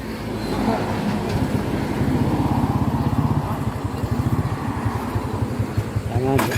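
A Suzuki Birdman motorcycle engine runs during a CVT test, a close, steady throbbing idle with rapid regular pulsing that quickens midway, no voices over it.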